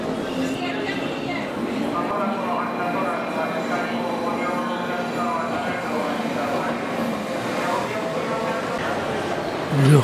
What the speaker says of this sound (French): nous prenons un train de banlieue pour rejoindre Okayama, puis Kyoto